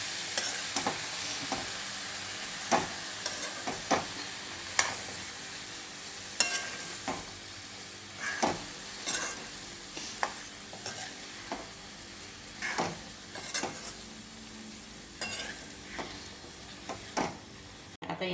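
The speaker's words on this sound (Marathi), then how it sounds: "फिरवून घेते कोबीला।" Cauliflower and peas fry in oil while being stirred, with a soft continuous sizzle broken by repeated scraping and clinking strokes of a spoon against the pan at an irregular rhythm, close and without talk.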